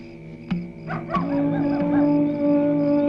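Dogs bark a few times, then a drawn-out whining howl carries on, sounding somewhat distant against a quiet background.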